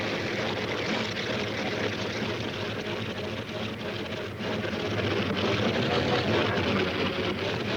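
A propeller airplane engine drones as a film sound effect for a failing engine, a loud, continuous, close roar that sags briefly midway and then resumes at full strength.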